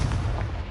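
A short, dull boom of the Confringo fire spell exploding in the video game Hogwarts Legacy, a single deep burst heard alone and moderately quiet.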